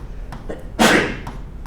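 A single loud sneeze bursts out near the microphone during a math lecture on polynomial long division, a sharp broadband blast lasting about half a second after soft room noise.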